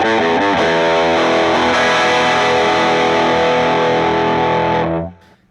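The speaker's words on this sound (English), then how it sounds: "The Crayon is a really great overdrive pedal, and it's on most of the time when I'm playing." Electric guitar played through an Electro-Harmonix Hot Wax overdrive/distortion pedal: a few quick strums open into a loud, thick, sustained distorted chord that rings steadily for several seconds before cutting off.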